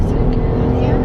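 A 2020 Dodge Durango GT V6 with an upgraded transmission accelerates hard, a brief, loud, low engine roar heard from inside the vehicle with a voice over it.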